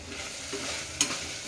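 Tomato puree from four or five tomatoes stirred into a hot frying pan while cooking drumstick biryani, a steady close sizzle with a brief scrape of the spoon partway through, no talk.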